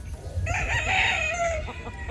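A gamefowl rooster of sweater-kelso cross crows once at close range, a strained, rising call that holds and then trails off, over faint farmyard background.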